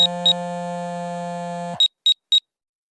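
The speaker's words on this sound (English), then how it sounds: "My phone's ringing." A phone rings with a steady electronic tone, then short repeated beeps follow in a quick, clean series before silence, with no voices.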